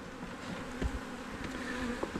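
Honey bees buzz steadily around an open hive during a late-November inspection, a continuous close drone with a few brief louder bumps, no voices.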